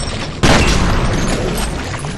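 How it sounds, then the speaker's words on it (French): A grenade explodes in the video game F.E.A.R., one sudden loud boom that hits hard and then rumbles and decays over the next couple of seconds. "Elle a fait exploser ma grenade."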